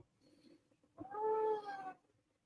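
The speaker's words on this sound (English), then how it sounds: "Did you guys hear my cat?" A pet cat lets out one drawn-out, whining meow lasting about a second, fairly close and clear, after a faint quieter sound; no one speaks.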